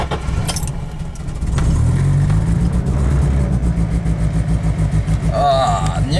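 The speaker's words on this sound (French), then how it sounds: "là c'est moi qui tiens le gaz dessus, je lâche. Il étouffe." A car engine revs loudly while the throttle is held open during preparation for a race at Sanair, a rough, pulsing roar that climbs and holds, with a voice talking over it.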